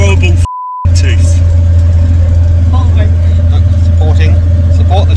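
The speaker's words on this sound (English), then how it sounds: "Let's go for a little test drive and make sure everything works just as it should" A Reliant Scimitar on a test drive, its engine a steady low drone heard from inside the car throughout, with a brief beep near the start and people talking over it.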